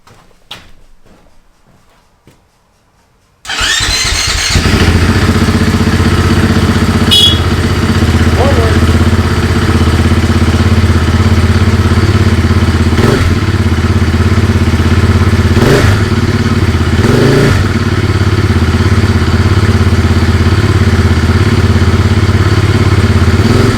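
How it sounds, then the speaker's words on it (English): A 2024 KTM 500 EXC dirt bike engine, with an emissions delete fitted, cranks after a quiet moment, fires and settles into a loud, steady running idle with a few sharp revs, close by. "we'll fire it up and see if it works without having a new ECU"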